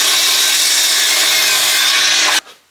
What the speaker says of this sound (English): We need to rip them down though.